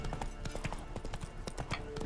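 Horse hooves clip-clop along in The Witcher 3 video game, an even trotting rhythm of repeated thuds lasting the whole stretch, moderately loud over low game ambience.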